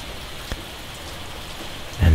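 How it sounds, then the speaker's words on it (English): Steady light rain falling at night with little to no wind, heard as a soft, even patter with one faint drip. A louder rustle comes in near the end. "A nice steady rain,"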